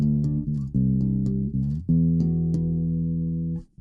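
Bass guitar through a Zoom B1 Four processor with a 4x10 cabinet simulation, playing sustained low notes in a short phrase, close and steady, then ringing out and stopping, with no talk.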